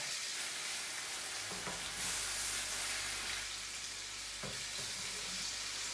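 Garlic chicken pieces fry in hot oil in a pan, giving a steady close sizzle throughout, with brief clatters of pieces being placed and stirred around the middle and near the end.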